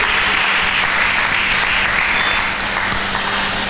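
A church congregation claps loudly and steadily for several seconds, a dense wash of applause with no voices standing out.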